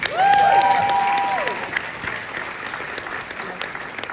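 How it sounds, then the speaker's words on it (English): Applause and cheering from a crowd at a youth leadership awards ceremony swell loudly at first, with a whistle and cheers on top, then gradually fade to scattered claps. "Now that's where I want a round of applause"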